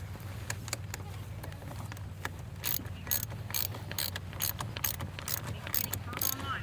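A torque wrench ratchets on a car battery terminal bolt, giving a run of quick, faint metallic clicks nearby over a low background rumble.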